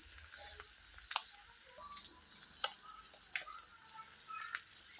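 Masala frying in a pan for restaurant-style egg curry, a steady bright sizzle running the whole time with a few sharper spatters and stirring ticks, close and fairly quiet, no voices.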